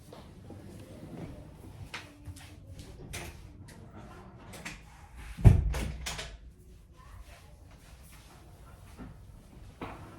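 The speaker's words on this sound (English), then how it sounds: "Okay, let me close the door." A door swings shut indoors with one firm thump, a short loud bump standing out over quiet room tone.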